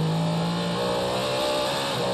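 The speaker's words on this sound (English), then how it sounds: "now we're on board with Renger van de Zande in the number 3 Cadillac" The number 3 Cadillac race car's engine at the 2023 24 Hours of Le Mans, heard onboard: a loud, continuous roar with a sustained tone that shifts as the revs change, alone without voices.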